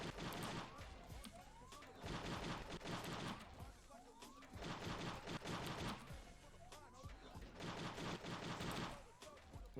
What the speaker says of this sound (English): all of my gunshots and movement are very, very optimal in this little tutorial level